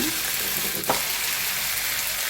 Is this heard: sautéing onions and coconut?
yes